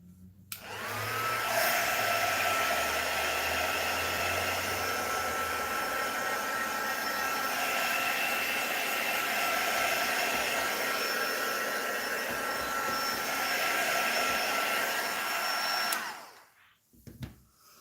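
A hair dryer blows steadily on alcohol ink, a loud, close whooshing drone with a constant whine that runs unbroken for about fifteen seconds before switching off, no voices over it.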